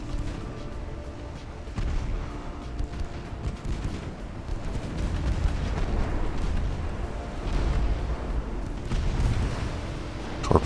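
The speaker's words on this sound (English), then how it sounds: "Torpedo detonation" Torpedo detonations and heavy naval gunfire in the warship game Ultimate Admiral: Dreadnoughts, a dense, continuous roar of booming explosions with a sharper blast near the end, loud and sustained with no talking.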